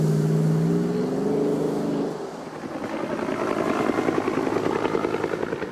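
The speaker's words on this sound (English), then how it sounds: "You could call the throaty revving of the V8 sexy." A Hummer's throaty V8 engine idles with a low, steady hum, then revs up into a rough, pulsing growl that stays loud and close for the remaining seconds.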